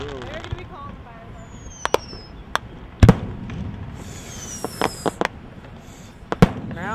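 Fourth of July fireworks exploding at a campsite near Ocean Shores, with sharp scattered bangs, one big close boom near the middle and several sharp reports later, over a low background hiss and faint voices.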